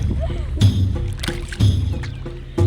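Oars splash and knock rhythmically as a small boat moves across the Brahmaputra River, with strokes roughly every second and low water sounds between.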